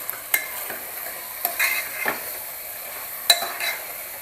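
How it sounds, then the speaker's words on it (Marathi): Mutton with turmeric and salt being stir-fried in a pan over high gas flame, a steady close sizzle broken by irregular scrapes and clinks of the spatula against the pan. "गॅस अगदी मोठा करायचा आणि चांगलं मटण हे परतून घ्यायचं आहे."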